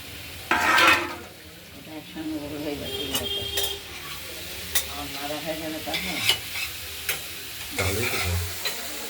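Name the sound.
radish stir-fried in a pan with mustard seed tempering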